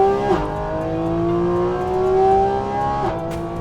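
A race car on a track day circuit screams past under throttle, its engine note climbing steadily with brief gear-change dips, loud and fairly close.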